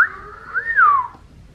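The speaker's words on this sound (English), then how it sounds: "That was a terrible whistle." A person whistles a single poorly pitched, wavering tune that rises and falls for about a second, heard close and on its own.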